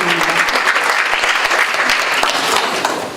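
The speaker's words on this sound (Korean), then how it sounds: "큰 박수" A crowd gives loud, dense, sustained applause at a 2017 political campaign launch event for a jobs committee in Korea. The clapping stays steady throughout and eases slightly at the very end.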